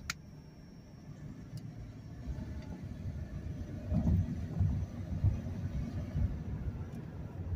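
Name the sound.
2008 BMW 328xi engine accelerating from standstill with misfire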